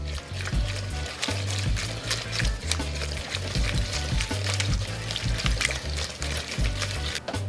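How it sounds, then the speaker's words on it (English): A whisk beats a wet mixture in a bowl for carne asada fries, giving a continuous close, sloshing, rhythmic clatter with dense rapid strokes. "Got a whisk, we're just gonna stir it up."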